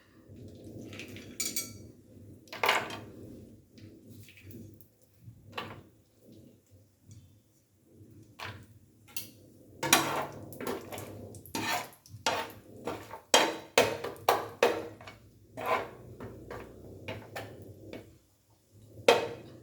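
Cashews frying in ghee in a pan produce a clattering, sizzling stream of pops and clinks that comes in irregular bursts, with sharper clusters later on, heard up close without voices.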